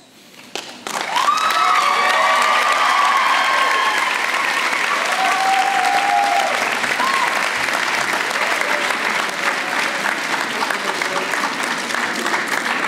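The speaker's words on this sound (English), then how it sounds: "honor and thank all these folks with an exuberant round of applause" Graduates at a College of Agriculture commencement break into a loud, sustained round of applause with some cheering, the dense clapping holding steady for over ten seconds.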